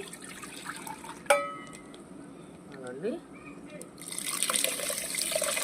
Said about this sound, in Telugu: ఇప్పుడు చింతపండు పులుసు అయితే పోసేస్తాం మనం